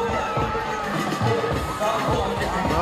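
Rugby fans supporting Tonga's Ikale Tahi cheer and shout in a packed stadium in Fiji's capital, a dense continuous roar of crowd noise with rising yells throughout.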